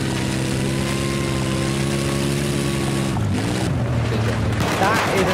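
A heavy armored vehicle (LAV) engine in Battlefield 4 drones at a steady idle, then shifts pitch abruptly partway through amid game-like rumbling and clatter.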